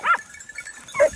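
Hunting dogs during a hunt in Corsica give two short barks about a second apart, moderately close, over an outdoor background.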